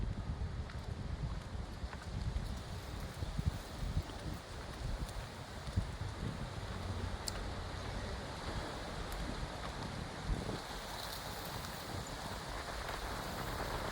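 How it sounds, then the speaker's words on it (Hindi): Cold wind blows outdoors near a river in the hills, a constant broadband rush buffeting close to the mic at a steady level, with no voices. "बहुत ठंडी ठंडी हवा चल रही है"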